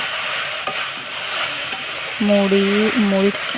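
Jute leaves with chopped chillies and salt frying in a pan, stirred steadily, give a continuous close sizzle broken by a few light scrapes, with a short steady hum rising partway through.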